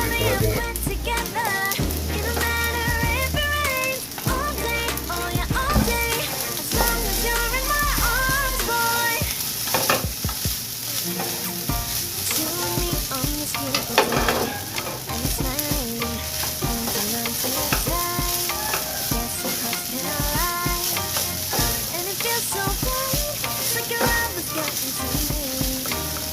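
Fried rice cooking in a pan hisses in a dense, continuous sizzle, with frequent spatula clatter and scraping against the pan all the way through. It stays close and loud, and no voices are heard.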